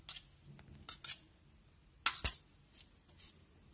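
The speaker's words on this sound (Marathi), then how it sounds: "आता सर्वप्रथम आपण गूळ आणि खोबरं जे आहे ते मिक्स करून घेऊ।" Jaggery and grated coconut being mixed together in a bowl, giving a few sparse scraping and clinking utensil strokes with quiet gaps between them, two sharper knocks near the middle, no voices.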